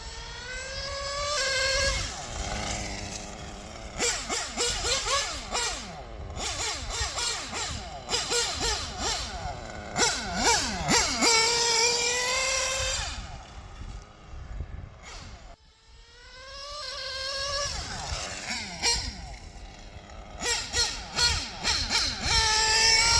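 A Sworkz GT2 RC car with an O.S. R21 nitro engine runs with a high, buzzing whine that rises and falls as it revs and shifts, fading and returning as the car passes, with a brief quiet gap midway.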